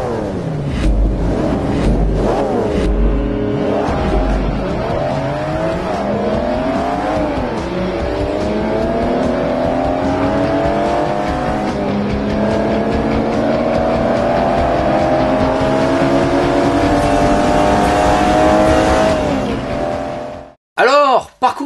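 A car engine in a racing video game drives a lap of the Nürburgring circuit, a loud, sustained engine tone sweeping up and down through gear changes and revs, with voices talking underneath before cutting off abruptly at the end.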